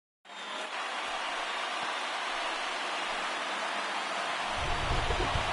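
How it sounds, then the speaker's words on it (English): Steady rain hiss from an MLB baseball video game on PS4, a dense, even wash of falling rain that holds for several seconds with a slight low rumble building near the end. "There is rain in the area"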